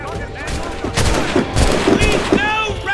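A musket volley crackles in Assassin's Creed Rogue, a dense fusillade of overlapping loud shots lasting several seconds, with shouted voices mixed in amid the gunfire.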